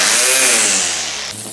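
A Parkside 20V cordless grass trimmer runs at full speed, a loud, high-pitched motor whine that slowly winds down over about a second and a half.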